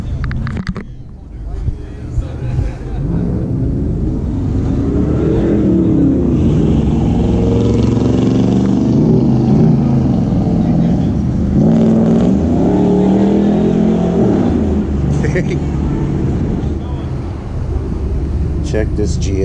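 A Pontiac G8 GXP's engine revs up and down several times, rising and falling in pitch, loud and close throughout.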